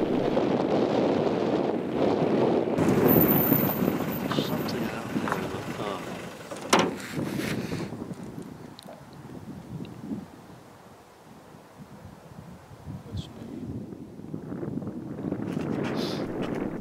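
Strong night wind on farmland in Essex buffets the microphone in heavy low rumbling gusts that swell, ease around the middle, then build again, with a brief knock partway through.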